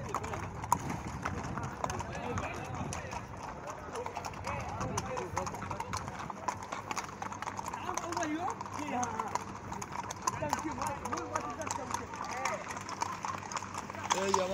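Police horses clip-clop along a parade route in the UAE, with steady hoof beats mixed into constant crowd and street noise and people talking throughout.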